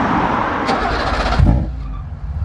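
A BMW E30 with a swapped engine and custom exhaust cranks briefly and catches with a sudden low bark, then settles into a rough, rumbling idle up close.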